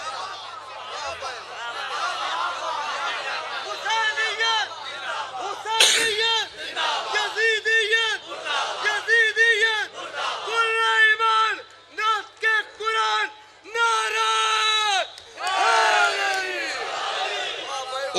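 A large gathering at a religious sermon shouts "Haidari" together with raised hands, in loud massed bursts of cheering and chanting separated by brief pauses, with a voice leading them.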